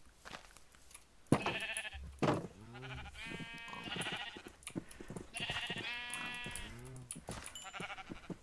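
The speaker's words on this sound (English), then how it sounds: "So let's go see if we can get 4 more baby sheep." Several sheep bleat in Minecraft, a run of game-animal calls rising and falling in close succession, moderately loud with no talk over them.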